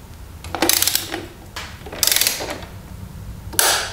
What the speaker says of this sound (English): Tighten it to 16 pounds feet of torque.